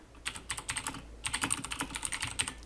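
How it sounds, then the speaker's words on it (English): Close, crisp computer keyboard keystrokes come in quick irregular bursts with a brief pause partway through while an email is typed. "I would go ahead and type up my entire email"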